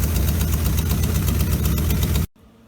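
A 1957 GMC 370 fire truck engine idles loud and close with a steady rumbling throb and a faint knock, then cuts off abruptly near the end, leaving quiet background.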